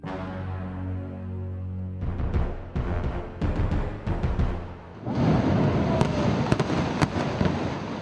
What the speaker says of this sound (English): Dust settles on the successful demolition of a derelict building to make way for urban renewal.